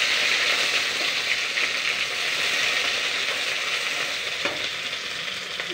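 A steady, loud sizzle of green garlic frying in hot mustard oil, with a brief scrape of stirring partway through.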